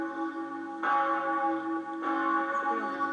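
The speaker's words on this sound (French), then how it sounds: "la cloche de Sainte-Marguerite, la plus ancienne datant de 1717, et la cloche de Saint-Sébastien sonneront également" Church bells peal for a Corpus Christi (Fête-Dieu) procession in Geispolsheim in 1993, including bells cast in 1933 and one dating from 1717; sustained, overlapping resonant ringing with fresh strikes swelling the sound twice.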